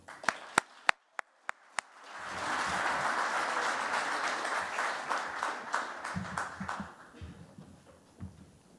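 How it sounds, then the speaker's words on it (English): A handful of sharp, separate claps opens, then a large conference audience at a Chile Day London plenary session bursts into full, dense applause that holds steady, thinning toward the end with scattered isolated claps. "Please join me welcoming with a big applause Mr. Bernardo Larraín."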